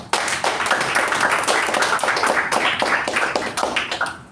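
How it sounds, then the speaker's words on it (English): An audience at a Toastmasters club meeting claps for the role takers, giving dense, steady applause from many hands nearby for about four seconds. "Let's give a round of applause for all the role takers."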